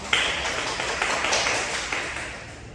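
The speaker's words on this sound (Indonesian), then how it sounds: "Kasih aplaus dulu buat Lola ya" A classroom of students claps for a classmate, a brisk burst of many hands at moderate distance that gradually thins and fades over a few seconds.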